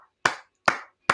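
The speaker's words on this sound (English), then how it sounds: "we got to give it a round of applause to Chris" Three sharp, separate claps of applause ring out at an even pace, close and fairly quiet, with nothing else around them.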